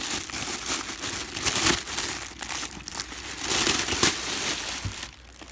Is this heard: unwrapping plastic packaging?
yes